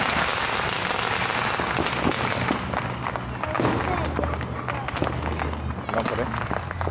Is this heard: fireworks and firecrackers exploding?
yes